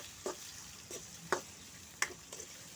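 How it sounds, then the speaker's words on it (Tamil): Large onion sautéing in oil for pumpkin sambar, a soft, steady sizzle with a few sharp scrapes and taps of a spoon stirring the pan. "இப்போ நல்லா எண்ணெயிலே நல்லா வதக்கி விட்டுக்கலாம்"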